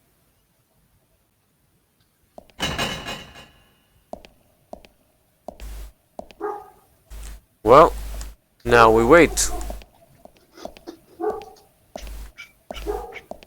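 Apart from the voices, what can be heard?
dog barking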